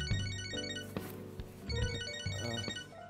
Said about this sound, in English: My phone.